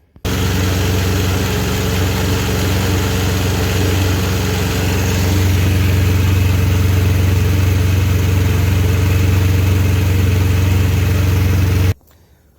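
A Yamaha Phazer snowmobile engine runs steadily at a low idle for about twelve seconds, a deep continuous rumble with a mechanical whine, then cuts off abruptly.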